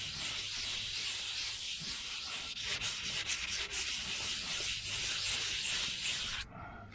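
Wet sandpaper works over fresh paint on a 1968 Chevelle Nomad under restoration, producing a continuous close, hissy scraping that keeps a steady loudness and stops abruptly near the end, with no talk.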